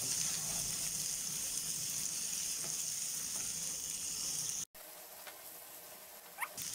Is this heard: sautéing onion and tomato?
yes